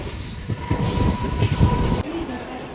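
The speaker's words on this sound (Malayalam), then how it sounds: "ഇന്ന് ട്രെയിനിൽ വലിയ തിരക്കൊന്നുമില്ലായിരുന്നു." A Mumbai local train bound for Thane runs along the rails with a steady, loud rumble of wheels on track and a thin, sustained metallic squeal throughout.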